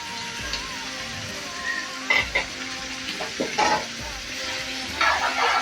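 Chicken pieces frying with masala powder in a pan, a soft continuous sizzle broken by a few scraping stirs of the spoon, close and moderately quiet.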